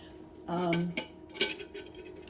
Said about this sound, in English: I do have a kettle, a little kettle.